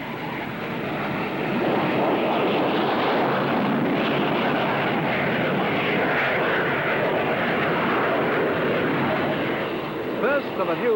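A Beagle-Wallace autogyro flies at the Farnborough air show, its engine and rotor giving a continuous, loud, rough drone that swells in the first seconds and then holds steady, with a slightly muffled, old-recording tone.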